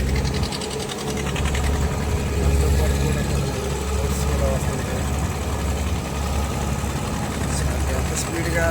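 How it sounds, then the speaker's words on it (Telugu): A boat engine drones steadily as the vessel runs at speed across the sea, a loud continuous low rumble with mechanical rattle throughout, mixed with wind and water noise. "ఉండేటువంటి స్పీడ్ బట్టి బోటు ప్రయాణం చేస్తుంది"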